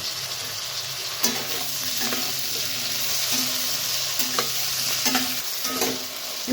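Ridge gourd pieces stir-fry with browned potatoes and chopped onion in a pan, a steady close sizzle broken by regular scraping strokes of a spatula, about one every second, with no voices.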